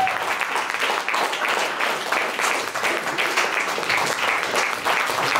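Sustained audience applause after a jazz concert performance, dense steady clapping from a large crowd filling the whole stretch without a break.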